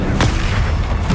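A Bombarda spell explodes in the video game Hogwarts Legacy, a loud, close booming blast with a sharp burst near the start and a second thump at the end, with no voices.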